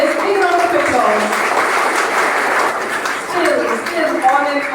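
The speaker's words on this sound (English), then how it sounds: "Yes, big round of applause." Sustained applause from a crowd gathered to welcome a guest of honor at a school society's jubilee inauguration, a dense steady wash of clapping with faint voices and laughter mixed in.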